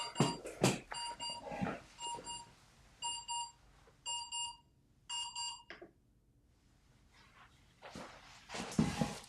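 An alarm clock goes off in repeated bursts of sharp, bright beeping, four or five groups in a steady rhythm, between louder handling clatter and thumps nearby.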